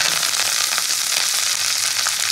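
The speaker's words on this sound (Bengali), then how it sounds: "কুচিয়ে রাখা খারকুল পাতাগুলো দিয়ে দেবো।" Chopped kharkol leaves hitting hot oil in a pan, giving a steady, close, loud sizzle with a bright hiss that runs unbroken and alone.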